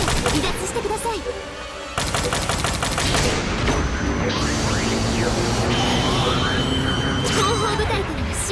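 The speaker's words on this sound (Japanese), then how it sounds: "後方部隊からの支援砲撃が来ます。" An artillery support bombardment in the mecha game Gundam Battle Operation 2 brings dense, loud bursts of gunfire and explosions, firing continuously in rapid volleys amid busy game effects.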